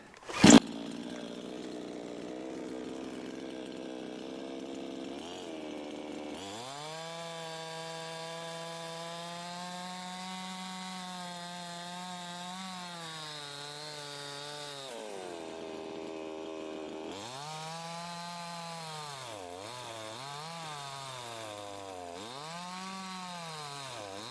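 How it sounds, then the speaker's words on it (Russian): A petrol chainsaw cuts firewood, its engine droning loudly and steadily for the whole stretch, with the pitch sagging under load and rising again between cuts, close to the microphone. "с бензопилой, конечно, намного повеселее заготавливать дрова."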